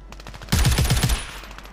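Automatic gunfire in Call of Duty Warzone, a loud burst of about six rapid shots ripping out close after a quieter lead-in, fading into a short echoing tail.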